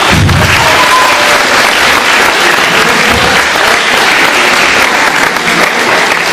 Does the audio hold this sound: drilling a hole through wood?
no